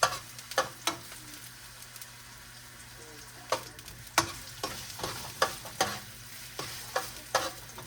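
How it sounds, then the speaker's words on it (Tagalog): Garlic and onion sautéing in a pan for pancit, a soft continuous sizzle with repeated sharp scrapes and clinks of a utensil stirring at irregular intervals. "Yung mga sangkap niya guys, igigisa natin. Bawang sibuyas muna."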